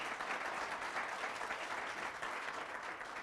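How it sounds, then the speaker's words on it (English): A seated audience at a business chat event claps steadily, a dense, even patter of many hands that holds fairly constant and moderately distant, with no talking over it. "Let's give him a big round of applause"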